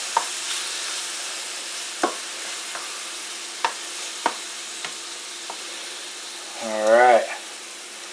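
Shrimp laid into a hot pan for lemon pepper shrimp crackle under a steady low sizzle, broken by a few sharp clinks and taps of utensils, with a brief spoken word near the end.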